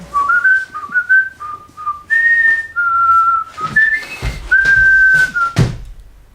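A person whistles a tune, bright clear notes in short phrases with small slides, close and loud, ending with a couple of dull thumps.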